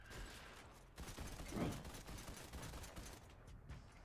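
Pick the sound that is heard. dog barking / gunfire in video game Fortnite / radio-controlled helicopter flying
gunfire in video game Fortnite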